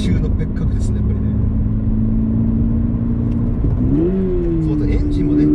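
A manual Subaru BRZ sports car with a naturally aspirated engine drones steadily on a mountain road, then its revs climb briefly before settling at a higher pitch.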